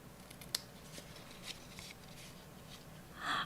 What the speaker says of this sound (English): just teeny tiny snips, because these tabs are also super small